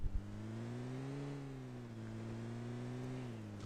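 Steady engine drone of a vehicle in PUBG Mobile, a smooth continuous hum with slight pitch rises and dips as it drives, fairly close, with no voices.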